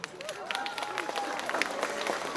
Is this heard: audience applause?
yes